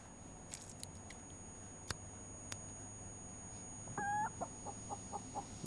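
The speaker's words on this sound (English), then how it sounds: "Chicken." A chicken clucks in the space survival game Breathedge, a few faint clucks and short calls over a quiet electronic hum, with scattered soft clicks.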